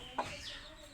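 A single short hen cluck from a chicken in a coop, close by, with quiet background noise and no speech.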